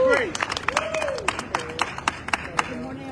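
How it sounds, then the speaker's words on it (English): Audience applause at a multicultural chambers of commerce press conference in New York, a steady patter of hand claps from a modest crowd lasting a few seconds, moderately close and loud. "Let's give a big applause, Grace."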